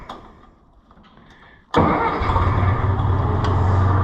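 A Massey Ferguson 50 tractor cranks briefly after quiet clicks, then its engine catches abruptly and settles into a loud, steady, close idle.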